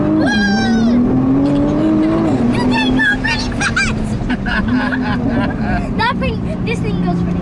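A 2023 Nissan GT-R engine roars close up as the car accelerates hard on a ride-along at a driving experience, its pitch rising and dropping through gear changes while voices talk over it.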